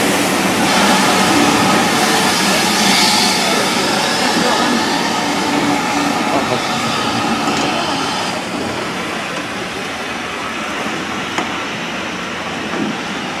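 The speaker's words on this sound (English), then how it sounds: "Here's my train." Steady rumbling roar of a Severn Valley Railway train to Kidderminster moving alongside a platform, broad and continuous throughout, with occasional faint clanks and squeals.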